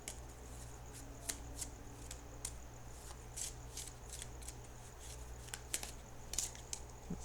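Tarot cards being shuffled in the hands, quiet repeated riffling and sharp card snaps at irregular intervals over a steady low background hum, close but faint, with no talking.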